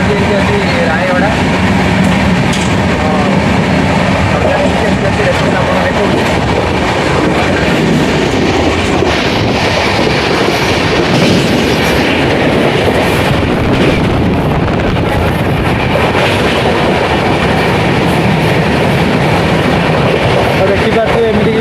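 A passenger train rolls toward Raigarh, Chhattisgarh at evening, giving a steady, loud, continuous rumble with clattering wheels on rails and wind noise, with voices faintly under it throughout.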